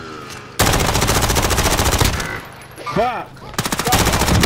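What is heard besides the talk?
gunfire in video game Call of Duty: Modern Warfare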